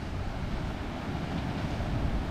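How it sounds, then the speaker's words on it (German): A Hawaiian ocean wave on Oahu's shore, heard as a steady, fairly quiet broadband surf wash with a slight swell near the end, with wind noise mixed in. "Komm, eine dicke, fette Welle."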